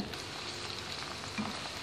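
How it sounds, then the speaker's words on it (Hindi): Bhindi (okra) frying in oil until light golden, a dense, steady crackling sizzle heard close up and continuous for the whole moment. "इसको हम लाइट गोल्डन फ्राई कर लेंगे।"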